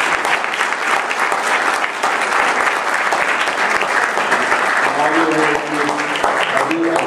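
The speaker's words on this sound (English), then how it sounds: "Everybody, can get a round of applause for all the athletes." An awards gala audience gives the athletes a sustained round of applause, dense and steady throughout, with faint voices underneath toward the end.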